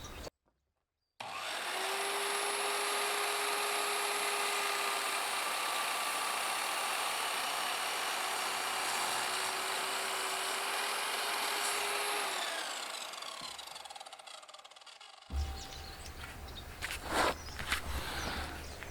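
A solar-powered miter saw cuts wood outdoors on a homestead in Portugal, spinning up to a loud, steady high whine that holds for about eleven seconds, then winds down, followed by quieter handling clatter.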